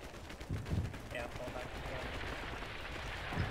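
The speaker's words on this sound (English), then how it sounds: "Artillery coming down." Rumbling artillery and rattling gunfire roll through a military video game battle, a broad continuous din with a few louder bursts, while voices talk over it.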